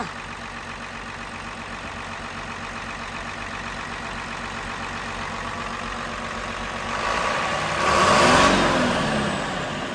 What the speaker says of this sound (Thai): เป็นเครื่องฮีโน่หกสูบ JO แปดโทโบอินเตอร์คูลเลอร์นะครับ อาไปเร่งเบื้อง